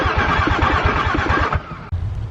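VW VR6 engine with new fuel injectors being cranked over by the starter, a loud rapid rhythmic chugging that runs for about a second and a half, then drops away to a lower rumble.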